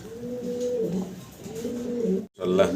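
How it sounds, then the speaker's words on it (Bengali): Pigeons coo in low, throaty rolls, two longer bursts separated by a pause, close by with a brief break near the end before cooing resumes. "মডার্ন আর মাদি কবুতর ইনপোর্টেড"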